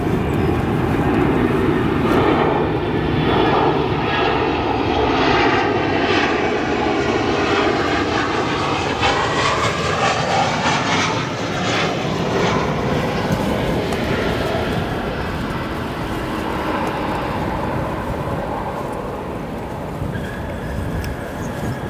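Landing at O'Hare, a United Airlines Boeing 737 in from LAX roars loudly as it passes close, its engine whine sweeping down in pitch before the noise eases gradually toward the end, with nobody speaking.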